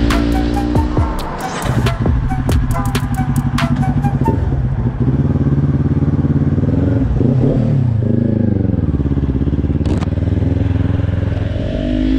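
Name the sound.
Kawasaki Ninja 400 motorcycle riding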